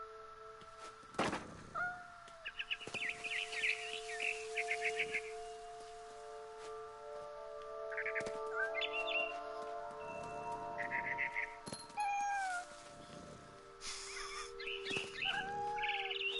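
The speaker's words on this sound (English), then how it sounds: "Then I heard chirping outside my window." Bird chirps in What Remains of Edith Finch come as scattered short tweets and trilling calls, faint to moderate, mixed with thumps and sustained tonal game sound throughout.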